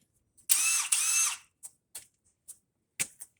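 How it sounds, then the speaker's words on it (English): A power drill with a 1/4-inch bit loosening screws on a furnace, one loud whirring burst with a brief pause mid-run, then several short sharp clicks and taps in near silence. "Get that 1/4-inch bit."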